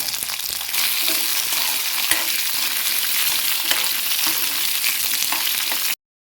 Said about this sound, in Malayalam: എല്ലാം കൂടി വഴറ്റുക